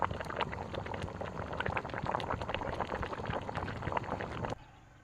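A pot of chepala pulusu, a fish curry, bubbles and simmers on the stove with a continuous dense crackle of popping bubbles that cuts off abruptly near the end.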